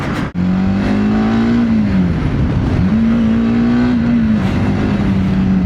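A TVS Apache RTX 300 motorcycle engine revs hard toward high RPM, a loud close droning tone that climbs, dips briefly and climbs again, steady and alone with no talk.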